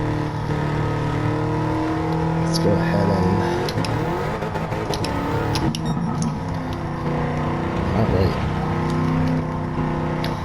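A Chevrolet C6 Corvette ZR1 engine races in a video game, a loud sustained roar rising and shifting through gears, with brief dips and rising whines as it accelerates, while someone talks over it.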